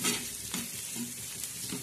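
Egg bhurji masala with red chilli powder and turmeric sizzles softly on a hot tawa, with rhythmic stirring scrapes repeating about every half second.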